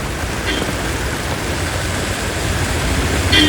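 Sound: heavy rain heard from inside a vehicle

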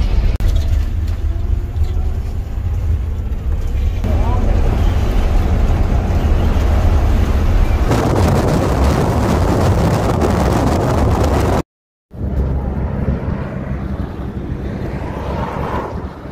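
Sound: bus ride in Peru

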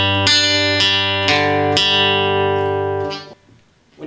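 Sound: acoustic guitar picking a song's intro pattern

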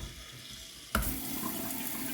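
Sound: tap water pouring into a jar

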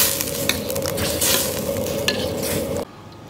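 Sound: stirring starch slurry into simmering meatball soup in a wok

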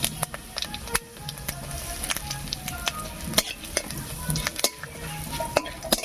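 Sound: dried chillies, bay leaf and cumin sizzling in hot oil

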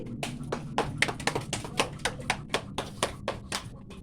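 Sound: hand clapping

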